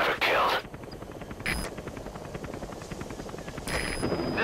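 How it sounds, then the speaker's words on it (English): Extraction helicopter in Metal Gear Solid V, a rapid rotor chop pulsing steadily under a brief electronic blip and a bright burst at the start, fairly loud and close. "I'll send the extraction chopper."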